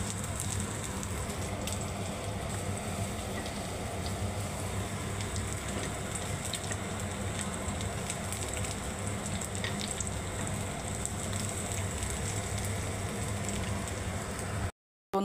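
Bora fritters fry in hot oil in a pan, a steady soft crackling hiss with faint pops and a low background hum, heard close but fairly quiet, ending abruptly.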